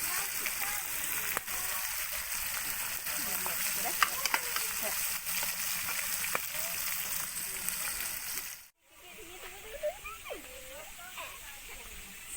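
Fish frying in a pan over a wood fire outdoors in a village, a steady close sizzle running throughout with a brief drop near the end.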